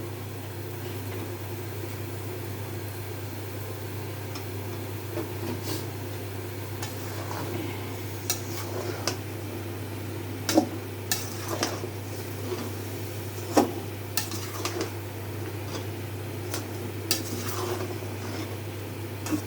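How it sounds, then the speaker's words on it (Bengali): Bottle gourd curry with spices is stirred in a pot on the stove, and a spoon scrapes and clinks against the pot's sides in scattered taps over a low steady hum. "নাড়া দিচ্ছি।"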